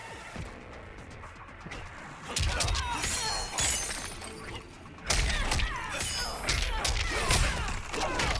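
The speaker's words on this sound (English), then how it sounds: "when we actually break the ribs with the sliding attack" Sub-Zero's sliding attack breaking an opponent's ribs in Mortal Kombat 11, loud crunching, shattering impacts in bursts around the middle and the end, over game effects with a voice talking throughout.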